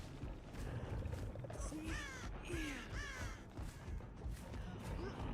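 Bird cries sound as an alert inside the horror game Dead by Daylight: a few harsh, crow-like caws ring out over a dense, rumbling game ambience, moderately loud and spaced across the moment.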